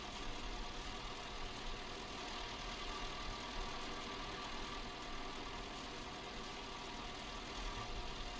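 A farm vehicle engine in Landwirtschafts-Simulator 19 drones steadily while driving a round, a continuous faint mid-pitched hum with a low rumble and no breaks.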